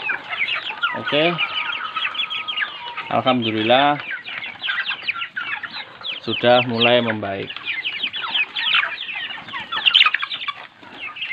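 Chickens sick with snot disease cluck and cackle in a coop, with two long drawn-out calls among steady chatter, while someone speaks briefly over them.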